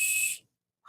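A plastic safety whistle clipped to a carabiner gives one short, loud, shrill blast close up, cut off sharply into silence.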